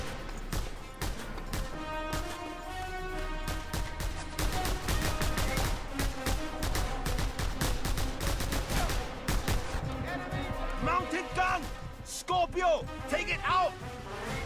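A mounted gun in Just Cause 2 fires in long, heavy rapid bursts that dominate the scene, with a player talking over and between the volleys.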